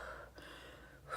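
A pregnant woman imitates her own short, sharp gasping breath, a single quick intake of air followed by a brief hold, close to the mic with no other sound.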